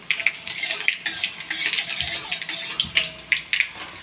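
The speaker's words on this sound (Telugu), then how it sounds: "ఒక 15 దాకా ఎండుమిర్చి తీసుకొని ఇలా వేయించుకుంటున్నానండి" About fifteen dried red chillies with fenugreek seeds roasting in a pan, stirred with a utensil that clinks and scrapes against the metal in quick, irregular taps, close and fairly loud over a soft background.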